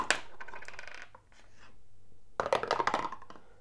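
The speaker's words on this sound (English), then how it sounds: "So we're going to roll 2 dice for each faction." Two dice tumble and clatter on a table during a tabletop war game, in two quick bursts of rattling clicks separated by a short pause, close and fairly crisp.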